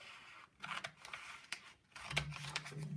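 Scissors snipping through an old paper A to Z street map: repeated crisp cutting strokes in uneven bursts, close up and moderately quiet, with a short pause partway through and no voices.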